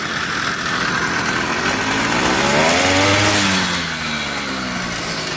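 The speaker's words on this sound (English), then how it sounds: "I'm holding the clutch to keep the engine running. And once I press the throttle," A small carbureted engine is revved with its muffler fitted and the clutch held in, the steady idle swelling into a loud rising rev near the middle before settling back, heard up close with no talking.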